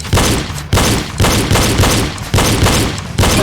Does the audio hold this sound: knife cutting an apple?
no